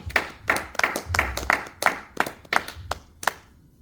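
A church congregation claps in a steady, fairly quick rhythm during a French-language worship service, with about a dozen sharp, close hand claps over low crowd murmur, fading out at the end.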